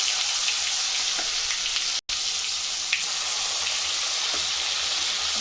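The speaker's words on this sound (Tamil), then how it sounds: "எண்ணெய் பிரிஞ்சு வர அளவுக்கு வதக்கிறோம்" Ground ridge gourd peel chutney sauteing in hot oil with mustard seeds, giving a loud, steady, close sizzle with a brief dropout partway through, with no talking.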